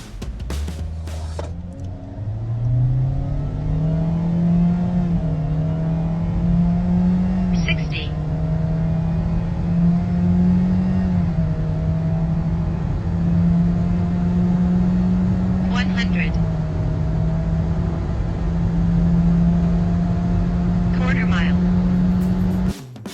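A 2023 Toyota Yaris ATIV accelerates and holds a steady revving engine drone for a long stretch, with a clear rising pitch at the start and brief clicks scattered over it.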